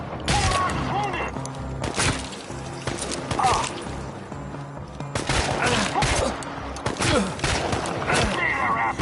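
Gunfire crackles through a Fallout video game battle in bursts of shots and thuds, loud and close, with shouting voices over it and sounds of movement in between.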